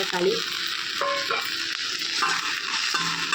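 Onion with ginger sizzles in a pan for chutney, tomato about to go in; a steady close frying hiss with stirring, and brief clinks of utensil against the pan.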